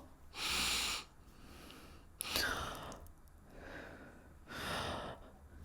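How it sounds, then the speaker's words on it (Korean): Several slow, airy breaths drawn in through nose and mouth together close by, soft rushing inhalations spaced a second or two apart with quiet pauses between. "이런 식으로 숨소리가 너무 과하지 않게 호흡을 하실 수가 있게 됩니다"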